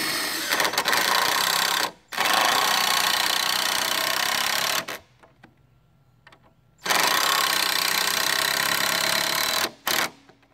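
Power screw driving into a pine deer fence door, with two loud sustained bursts of motor whir separated by brief gaps and a quieter pause in between.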